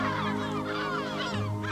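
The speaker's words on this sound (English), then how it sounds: "The gulls defend their nests fiercely, swooping down from above or hissing from the ground" Gulls on a Brijuni island nesting colony calling while defending their nests, harsh honking cries repeating over a steady background, several birds near and loud with no voices.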